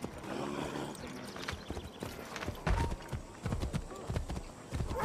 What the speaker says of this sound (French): On va y aller à cheval.